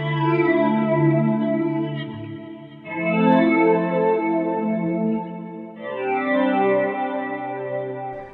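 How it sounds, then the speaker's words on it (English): Electric guitar chords with a volume swell and whammy bar wobble through a watery chorus effect, three sustained swells rising and fading, steady and loud with no talking. "Now with the whammy bar, it just adds a little bit more fluctuation in there"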